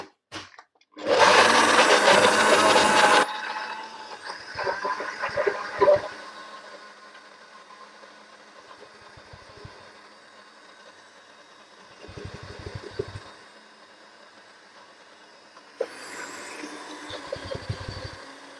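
Blender grinding hard frozen acai bricks into a puree, a loud dense whir at the start that drops to a lower churning hum with knocks, then surges loud again near the end.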